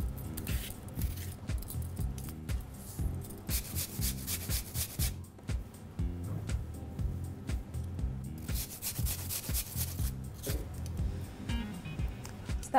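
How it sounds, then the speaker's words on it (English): A peeled apple is coarsely grated, producing rhythmic, repeated scraping strokes in steady bursts, close and fairly quiet, without speech. "I'm going to peel it and then coarsely grate it."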